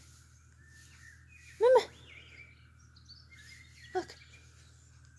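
Two short bird chirps from a bird video playing on a computer, one louder call followed by a fainter one a couple of seconds later, over a low steady hum in a quiet room.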